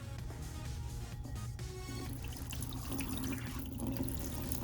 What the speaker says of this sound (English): So now we're gonna drain our fries and then fry them.